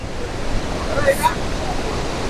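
Rushing Saraswati river at Mana village near Badrinath, heard from a bridge over it: a steady broadband roar of fast water with no pauses.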